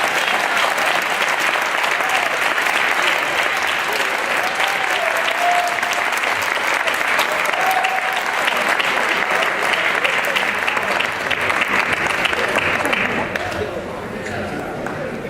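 Sustained, dense applause from an audience at a 2018 Martin Luther King breakfast in Hamtramck, steady and full for most of the stretch before easing slightly near the end; a few voices mix in beneath the clapping.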